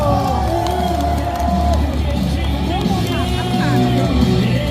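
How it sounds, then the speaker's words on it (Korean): A packed crowd cheers and whoops steadily at a presidential candidate's campaign rally outside Yatap Station, under an amplified voice over the loudspeakers. "박수 한 번 부탁드립니다"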